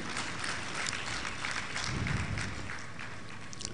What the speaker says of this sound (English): A round of applause for our governor.